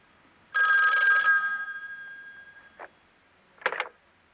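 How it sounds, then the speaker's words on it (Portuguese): A telephone bell rings loudly in a long burst that rings out and fades, followed by two shorter rings after pauses, with no talk over it. "Por favor, atenda o telefone."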